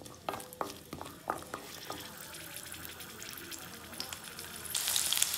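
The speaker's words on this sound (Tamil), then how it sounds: "இதை நல்லா வதக்கணும்." Small onions sauté in a pan for sambar, a continuous close frying hiss with several sharp spoon-and-pan clinks early on and a brighter gush of sizzle near the end.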